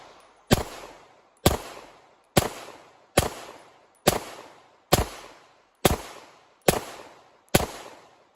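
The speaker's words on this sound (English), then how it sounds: "And what I'm going to do is shoot it. 10 rounds, 10 seconds, 10 yards." Handgun shots aimed at a B8 bullseye target at 10 yards, heard as nine evenly spaced sharp cracks about a second apart, each with a short decaying echo, close and clear with no talking.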